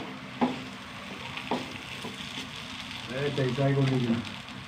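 A spoon pokes and mashes an egg mixture in a hot pan, giving a few sharp scraping knocks over a soft sizzle, then a voice speaks close by.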